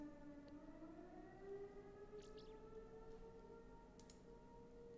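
A civil defense siren test sounds at noon in Los Angeles, a sustained wailing tone that slowly rises in pitch, steady and moderately distant, with no talking over it.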